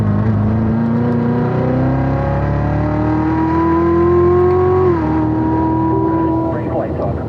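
A race car on the Spring Mountain track drones loudly and close, its engine pitch climbing steadily under throttle, dipping briefly at a shift, then rising again as the car accelerates out of a corner.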